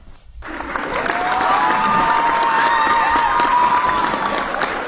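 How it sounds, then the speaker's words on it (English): Canned applause sound effect played over a livestream, a steady crowd of clapping and light cheering that swells in after a brief pause and holds loud and even throughout. "Monica, can you hit the claps for our dear friend?"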